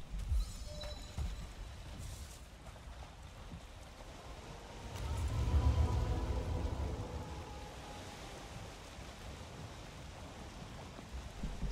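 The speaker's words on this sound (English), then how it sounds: "Now, of course, it's gonna start raining." Rain falls in the video game Valheim as a steady hiss of drops, with a low rumbling swell in the middle before it settles back to a soft, even patter.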